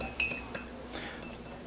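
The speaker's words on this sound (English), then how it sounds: "stir it up, beat it up," A spoon stirs and beats Vietnamese coffee in a glass, giving a few sharp metallic clinks near the start and then a softer, steady swirl, close and alone.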